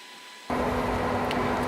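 An electric heater inside a camper starts up with an abrupt switch-on, then holds a steady loud fan whoosh with a low hum.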